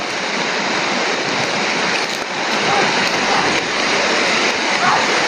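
Steady, loud broadband rain hiss fills the whole stretch without a break, a continuous outdoor downpour with no clear voices over it.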